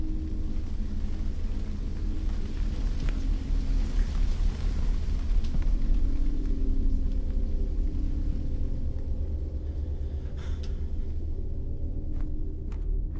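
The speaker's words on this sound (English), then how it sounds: "Is that the rain?" Steady rain with deep rolling thunder in the VR horror game MADiSON VR, a constant low rumble and hiss under faint occasional clicks and creaks, with no talking.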